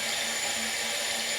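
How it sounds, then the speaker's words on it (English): Water runs steadily from a tap into a sink while a face is wetted during a morning skin-care routine, a loud, close and continuous rushing stream with no voices. "I'm going to go ahead and wet my face real quick"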